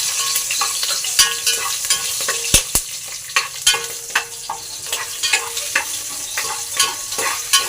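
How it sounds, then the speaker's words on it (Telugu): Whole spices and a bay leaf fry in hot oil for biryani, a loud, continuous crackling sizzle broken by sharp pops and repeated stirring scrapes close up, with no talking. "అవన్నీ వేసుకొని బాగా ఫ్రై అయితే చేసుకోవాలి ఫ్రెండ్స్."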